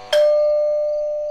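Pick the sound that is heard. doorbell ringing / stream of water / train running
doorbell ringing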